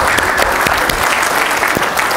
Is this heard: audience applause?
yes